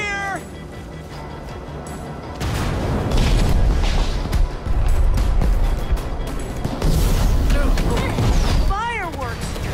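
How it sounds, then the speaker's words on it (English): Fireworks go off in the video game Minecraft: Story Mode. A dense, loud wash of booming bursts builds after a quieter opening, and a string of rising whistling chirps near the end sits over game music and effects. "Fireworks!"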